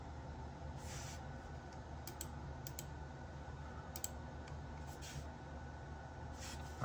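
A few scattered clicks from a computer keyboard as a password is typed, sparse and light over a constant low room hum, with no talking.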